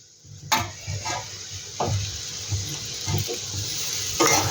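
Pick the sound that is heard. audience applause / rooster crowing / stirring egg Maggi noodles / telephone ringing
stirring egg Maggi noodles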